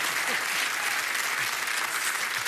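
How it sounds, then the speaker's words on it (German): A studio audience at a Bavarian TV cabaret talk show claps steadily, a dense, even wash of applause with no pauses. "Bitte applaudieren Sie für Günther Grünwald"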